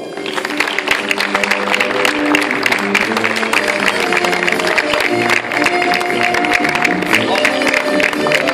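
Audience clapping loudly and continuously for an honoree at a tribute to local bars and taverns in Barrial de Gáldar, a dense, sustained round of applause with music and voices mixed underneath.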